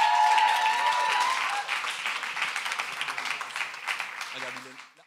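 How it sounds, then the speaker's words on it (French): Audience applause fills a hall as a guest walks onto the stage to join the speaker, a dense, sustained wash of clapping that slowly thins and fades out, with a voice speaking briefly near the start and again at the close. "est-ce que vous pouvez applaudir Cédric alors qu'il me rejoint?"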